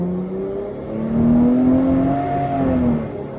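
Mopar car fitted with an iDrive performance unit, engine revving up in a single rising hit close by, holding briefly and then easing off.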